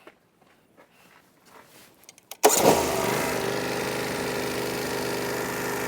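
A Norwood HD36v2 sawmill's engine starts after a few quiet shuffling steps, catching abruptly and settling into a loud, steady running drone that continues to the end.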